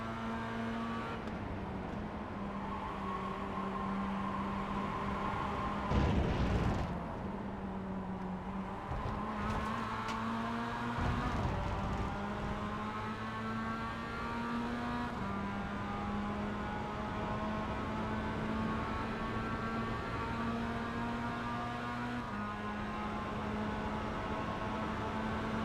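An onboard race car engine in a sim racing video game at Road Atlanta, the number 50 machine, revving up and down through gear changes with a clear droning harmonic whine, loud and continuous.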